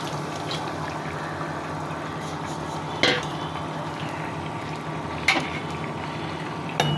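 A spoon stirs chopped tomato, onion and spring onion into half-boiled pumpkin in a pan, a steady low simmering bubble with a few sharper scrapes at intervals, close and unaccompanied by talk.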